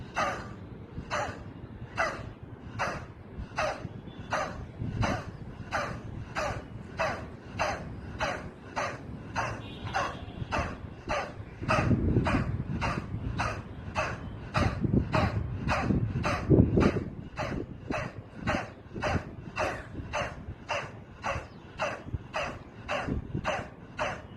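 A person doing a breathing exercise that imitates a dog's panting, with sharp forceful exhalations from the throat as the belly pulls in. The breaths come in a fast, even rhythm of about two per second, close and steady, throughout.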